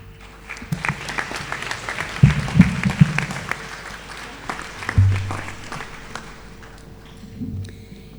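Scattered applause from the audience at a Monash University convocation ceremony for Faculty of Science graduates, fairly sparse and uneven, with a few louder bursts and soft thuds rising and falling.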